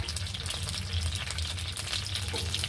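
Ginger sautéing in a pan, a dense close sizzle with fine crackles and a steady low hum beneath, continuous throughout with no voices.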